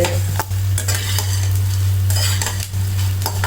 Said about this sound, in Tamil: ஃபுல்லாக பொரிஞ்சிருச்சு சட்டம் கேட்குதா பொரி மாதிரி